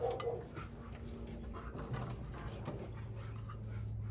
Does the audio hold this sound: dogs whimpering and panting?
yes